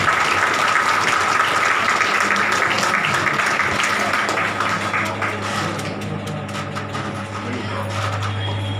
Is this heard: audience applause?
yes